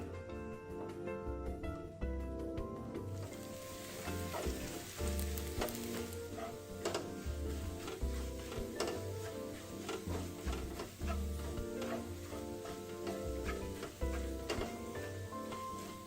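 Sliced shallots frying in cooking oil over medium heat, a dense, continuous crackling sizzle with scattered sharp pops, close and steady throughout.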